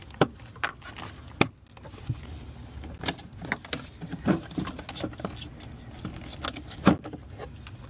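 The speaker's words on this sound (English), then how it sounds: "Let's remove the air filter." Air filter being removed from a Honda Odyssey, close-up plastic clicks, rattles and light jangling taps, scattered and irregular, with faint background hum and no talk.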